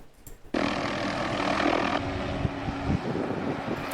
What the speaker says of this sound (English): that helicopter sounds like it's making farting noises